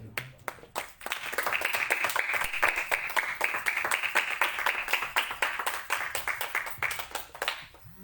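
A church congregation claps steadily for several seconds during a worship service, many hands applauding together at close range, starting with a few scattered claps and tapering slightly.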